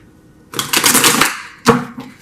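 A deck of tarot cards riffled in a dense fluttering burst lasting about a second, followed by a sharp snap and a shorter riffle, close and loud, without speech.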